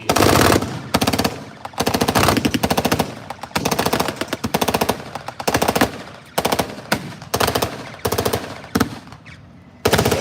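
MG-42 and MG-34 machine guns fire in long rapid bursts with short gaps at a tank battle reenactment, loud and close, with no talk over them.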